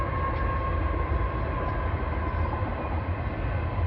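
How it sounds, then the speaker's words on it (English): A passing train rumbles continuously and loudly near a driveway where a 1986 Chevrolet Cavalier is being repaired, a steady dense roar with a faint high tone and no voices. "the train wants to come by. And it's really loud"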